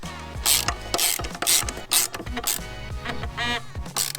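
A ratchet wrench clicks in quick, repeated bursts as the mulching blade bolt on a Murray lawn mower is tightened down. The sharp close-up ratcheting comes in several runs.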